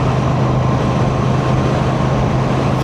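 A Royal Enfield motorcycle engine runs steadily and close, a constant low, even throb with no change in pace and no talking.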